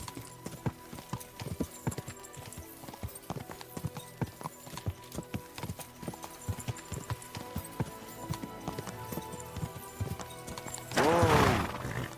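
Rapid hoofbeats clatter in a steady galloping rhythm over background music in the video game Kingdom Come: Deliverance 2, ending in a loud horse whinny.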